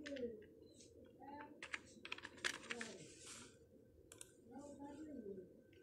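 Computer keyboard keys clicked in short bursts of typing, close and soft, while a person speaks over the keystrokes throughout.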